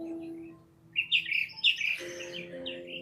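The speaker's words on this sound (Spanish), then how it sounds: "¿Está escuchando los pajaritos?" Small birds chirp and twitter in a quick run of bright calls, moderately close, over a low steady hum with a faint tone in the background.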